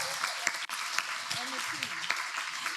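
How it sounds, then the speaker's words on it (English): An audience at a women's investing panel event applauds with a continuous patter of clapping, while a voice speaks over it. "Can we applaud?"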